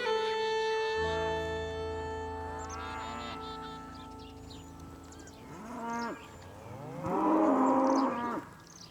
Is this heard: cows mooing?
yes